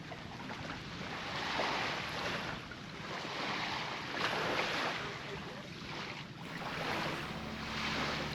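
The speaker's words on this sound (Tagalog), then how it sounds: "Nakakakilig nga naman talaga mapakinggan ang hampas ng alon ng tubig dito sa dalampasigan." Waves break on a beach at Kabugaw Gamay in the Gigantes Islands, rolling surges of wash returning every couple of seconds under steady wind buffeting the microphone, fairly close and continuous.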